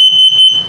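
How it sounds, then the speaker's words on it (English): An RV LP and carbon monoxide detector on a 2021 CrossRoads Zinger 331BH runs its self-test, giving a loud, steady high-pitched electronic tone that pulses slightly in level for under a second, with nothing else heard. "So I'm going to run it through the self-test. LP, carbon monoxide coming up."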